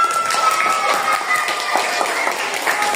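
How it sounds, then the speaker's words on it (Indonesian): A class of students applauds together in a classroom, giving a steady, dense patter of many hands clapping at close range that keeps going without a break. "tepuk tangan dulu untuk hasil kerjanya"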